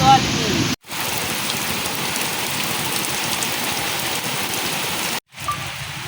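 Rain falls steadily on a village home, a dense even hiss of drops on surfaces, close and constant, briefly cut by two short gaps.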